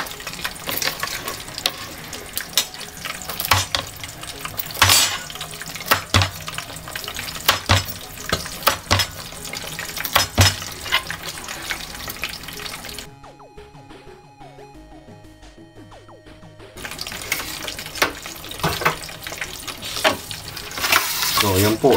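Pork chop frying in a pan, a steady crackling sizzle with sharp pops, briefly dropping away to near quiet before the loud frying resumes.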